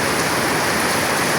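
Heavy rain pours down in a dense, steady roar of hiss and patter, loud and close, with no voices.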